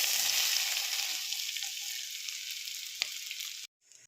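Ground masala paste hitting hot oil with curry leaves for beef varattiyathu, a loud, dense sizzle that slowly eases, then cuts off abruptly near the end, no talk.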